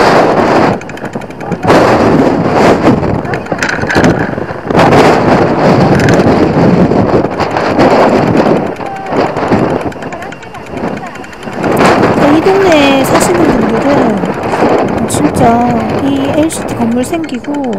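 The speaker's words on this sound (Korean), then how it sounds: "진짜 여기는 너무 심하게 불어서 거의 완전 태풍입니다" Strong gusty wind funnelling between high-rise buildings at Haeundae LCT while cycling, roaring and buffeting loudly against the microphone in surging waves, with a voice partly heard under the rumble.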